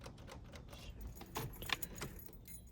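Car keys jangle and click at the ignition of a Nissan 240SX with a dead battery, a few short metallic rattles close by with no engine turning over.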